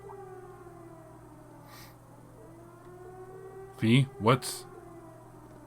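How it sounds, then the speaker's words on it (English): A steady, droning alarm siren sounds from a fort in the video game Trails of Cold Steel, holding a sustained wailing tone in the background while a person briefly speaks over it near the end. "It sounds like a siren"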